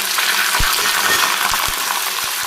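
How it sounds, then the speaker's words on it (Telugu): Mustard and cumin seeds spluttering in hot oil while tempering for an instant tomato pickle: a steady hiss with scattered sharp pops, close and fairly loud, with no voices. "చూడండి, ఆవాలు చిటపటలాడుతున్నాయి."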